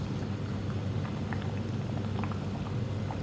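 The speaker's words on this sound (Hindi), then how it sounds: "राइस हमारे अच्छे से बॉयल हो गए," Basmati rice boils in a pot of water for biryani, giving a soft, steady bubbling and simmering hiss with faint scattered pops, quiet and continuous.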